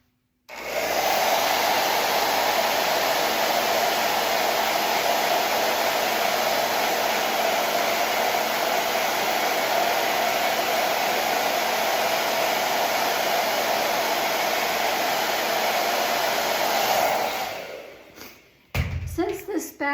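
A hair dryer blows steadily on a freshly painted daisy picture with an abstract background, a loud continuous roar that runs nearly unbroken for about seventeen seconds before cutting off, followed by a few brief knocks and handling sounds.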